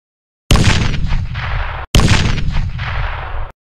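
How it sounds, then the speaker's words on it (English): Two loud, booming grenade explosions from the Bohemia Interactive grenade in the video game ArmA 3. Each blast starts abruptly and rumbles out over about a second and a half, with a brief silence between them. "This is the Bohemia Interactive grenade."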